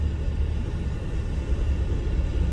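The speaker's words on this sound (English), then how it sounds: "There ain't nothing but traffic all over the place" Road traffic near Atlanta in Georgia makes a steady low rumble of passing cars, moderately distant and continuous, with no voices.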